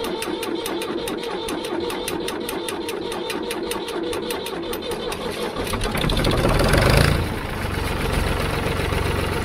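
A Ford 3000 tractor diesel engine without glow plugs cranks with a rapid rhythmic chugging, then catches and rises to a louder roar before settling into a steady idle, heard close up.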